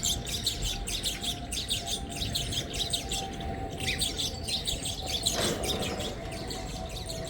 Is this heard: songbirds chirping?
yes